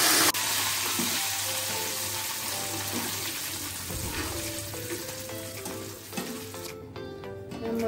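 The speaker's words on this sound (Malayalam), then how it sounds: "നമ്മൾക്ക് ഉപ്പ് കലക്കി വെച്ച വെള്ളം ഇതിലേക്ക് ഒഴിച്ചു." Salt water poured into a pan of half-cooked banana chips frying in oil sets off a loud, close sizzle, with stirring clinks and bubbling through the hiss.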